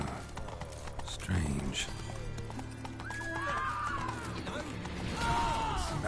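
In The Witcher 3, the horse Roach clip-clops along as hooves thud under a steady game soundscape. Someone speaks a word over it, and brief whinny-like tones and a crash sound partway through.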